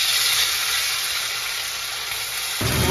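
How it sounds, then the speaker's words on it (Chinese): Pork hits a hot, smoking, oiled pan and sizzles loudly with a dense, steady hiss that shifts slightly in texture near the end. "热锅冒烟之后下猪肉"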